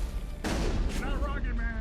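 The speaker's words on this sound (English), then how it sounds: "Shotgun. And that sounds like a rocket." Shotgun blast followed by rocket fire in the Mass Effect 1 video game, a sudden sharp burst then a rushing roar, with voices talking over it.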